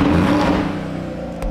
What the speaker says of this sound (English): It's got a crazy exhaust on it.